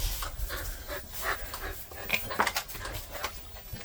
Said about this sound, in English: You see the dog.